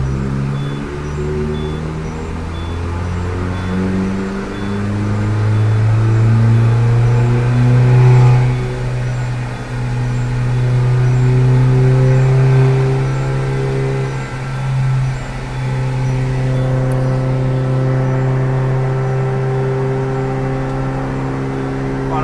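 A car engine holds about 4000 rpm on a dynamometer, a loud sustained drone with a steady pitch that swells slightly and settles, running continuously with no voices.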